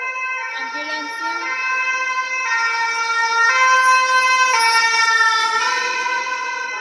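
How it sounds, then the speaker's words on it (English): A loud ambulance siren wails steadily with a rising, shifting pitch, swelling as it draws close and passes, with traffic rumbling underneath, in Brussels city centre, Belgium. "Ambulance."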